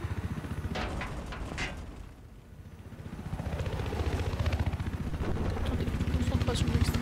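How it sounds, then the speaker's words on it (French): A helicopter's rotor thumps and whirs continuously in Battlefield 4 on the Siege of Shanghai map, with engine drone, a brief dip in the middle, then rising again alongside game sound effects. "il y a un autre hélico qui me tire dessus."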